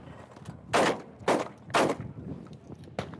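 Shotgun blasts at clay targets at a trade-show shooting range, four sharp reports spaced under a second apart, loud and close, with faint outdoor background between shots.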